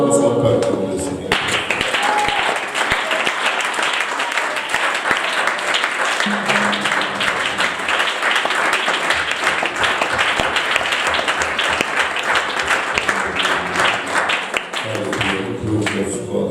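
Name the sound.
congregation applauding in church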